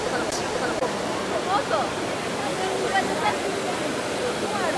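Water pours and splashes steadily at the Trevi Fountain in Rome, a dense, continuous rushing wash heard up close, with crowd voices murmuring faintly beneath it.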